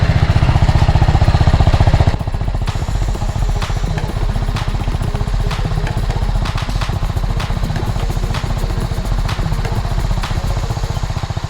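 A BMW G310R motorcycle runs at a steady idle while its rear tire spins, giving a loud continuous engine drone with a fine rapid clatter throughout.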